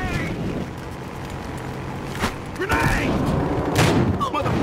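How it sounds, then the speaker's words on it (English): Gunfire and explosion bursts in a Battlefield Hardline Dust Bowl conquest match, with a sharp grenade-like blast standing out against steady wind and water-vehicle rumble, while excited player voices shout over the action. "Throw in a grenade!"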